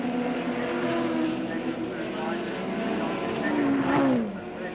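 Touring cars race at Adelaide International Raceway in 1987, their engines droning loud and steady with rising and falling pitch as they pass close by, under commentator talk.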